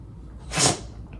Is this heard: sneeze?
yes